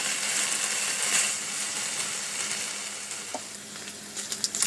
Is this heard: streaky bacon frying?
yes